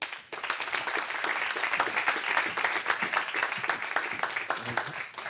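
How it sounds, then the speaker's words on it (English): Sustained applause from an audience at a UEFA Europa League semi-final draw ceremony, a continuous wash of many hands clapping at a moderate distance. "Ladies and gentlemen, a big round of applause for the UEFA Europa League 2016 final"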